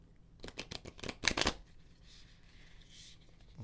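A tarot card deck being shuffled by hand gives a quick burst of crisp, riffling card flutters and snaps, close and fairly loud, then trails off into quiet room tone.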